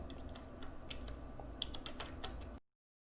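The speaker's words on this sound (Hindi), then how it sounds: "हम फटाफट से एक सीरीज ऑफ वैल्यू एंटर कर देते हैं कीबोर्ड से" A computer keyboard clatters as a series of values goes into a spreadsheet: quick, uneven keystrokes, close and moderately quiet, then an abrupt stop into silence.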